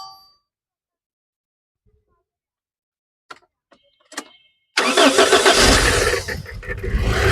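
A 2008 Toyota Hiace GL van's engine starts after a few faint clicks and clunks, then settles into a loud, steady close-up idle.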